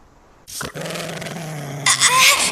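Low, steady growling from a pet dog named Pizou, one continuous rumble that rises and roughens toward the end, close and fairly loud.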